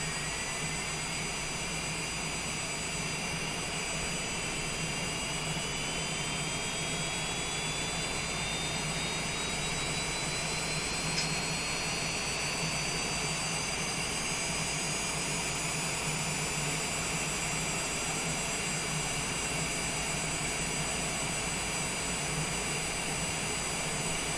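Engine number one of a Citation Longitude business jet spools up at start in Microsoft Flight Simulator, with a steady whine rising slowly in pitch over constant roaring turbine noise.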